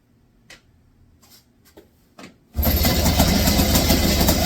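A 1966 Puch Allstate engine, idle for 48 years, turns over after a few faint clicks and knocks, then catches and runs loud and steady without a break.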